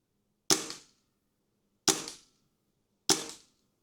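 Three sharp shots from an Air Arms TX200 .177 air rifle, each a crisp snap with a short ringing tail, spaced about a second and a half apart, close and fairly quiet overall.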